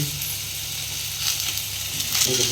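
Potatoes sizzle in hot oil for a crab curry, a loud, close, steady hiss with crackling bursts that swell toward the end; no voices.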